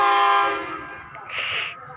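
A Thai express train horn blows a loud, sustained tone that fades away, followed by a short, high-pitched whistle burst near the end.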